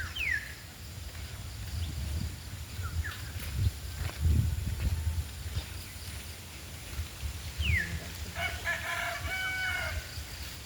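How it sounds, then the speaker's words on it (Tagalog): Rooster crows twice on a countryside farm, once near the start and again midway, while hens cluck softly in the background over a steady low outdoor rumble. "May manok pa."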